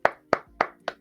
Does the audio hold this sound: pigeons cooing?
no